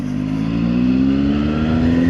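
A CFMOTO 750SR-S motorcycle engine pulls in third gear as the throttle is opened, a loud close drone whose pitch climbs steadily as revs rise, with no talk.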